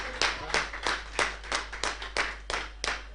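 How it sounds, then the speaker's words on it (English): Sparse clapping for community theatre performers after a heritage climate change production, a few hands striking in an uneven, fairly quiet rhythm of separate claps. "you should give them a round of applause for that"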